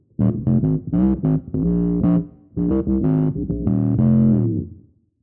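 Bass guitar through a Fractal FM3/FM9/Axe-FX III pitch block at full mix, giving a metallic, ring-modulator-like synth tone: choppy bass phrases with brief pauses, loud and alone.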